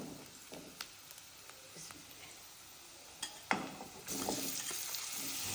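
Hilsa fish going into a pan of frying coconut and taro: faint, soft sizzling with scattered clinks and scrapes, then the frying swells louder and stays steady after the fish goes in.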